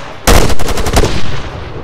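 Loud, close gunfire in Arma 3, a rapid burst of automatic shots that sounds suddenly, rattles on for about a second and then trails off into a lower rumble.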